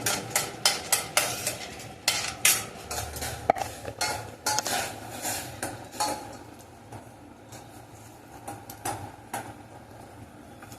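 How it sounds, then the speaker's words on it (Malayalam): Cardamom pods being crushed by hand in a small kitchen mortar or grinder, giving a run of sharp, close knocks and scrapes in an irregular rhythm, loud at first and then thinning out, with no one talking. "നമുക്ക് രണ്ട് മൂന്ന് ഏലക്ക പൊടിച്ചെടുക്കാം ഏലക്ക പൊടിച്ച് ഇതിനകത്തിടാം"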